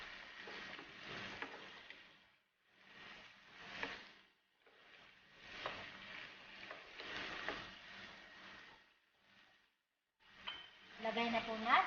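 Chop suey vegetables stirred while frying in a pan, bursts of hissing sizzle and scraping that come and go in waves with brief quiet gaps, ending in a louder crackling stretch.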